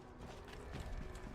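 Horse clip-clopping in Assassin's Creed Origins, steady hoof beats with faint mechanical clatter, quiet and continuous under the game's ambient noise.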